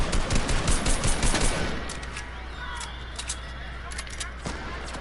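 Video game gunfire rattles in rapid bursts of sharp shots over the first couple of seconds, then sparser distant shots continue beneath a steady low hum and faint background sound.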